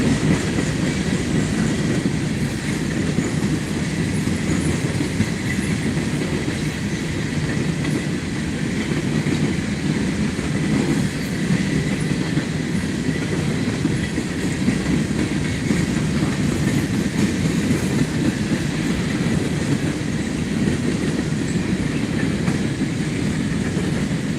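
A CSX freight train rolls past trackside at Thurmond, West Virginia, a loud, steady roar of wheels and rumbling cars with faint clickety-clack, continuous throughout and close by, with no talking.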